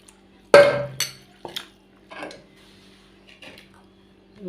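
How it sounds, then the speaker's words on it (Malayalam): Beef pieces dropped into a pressure cooker, with a few sharp metallic clanks and clinks of pot and utensils against the cooker, spaced out over several seconds, close and moderately loud, no voices. "ബീഫ് കുക്കറിലേക്ക് ഇട്ടു"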